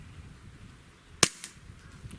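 A single sharp CZ SP-01 Shadow pistol shot fired over a chronograph at a range, with a crisp crack and a fainter echo just after, in otherwise quiet surroundings.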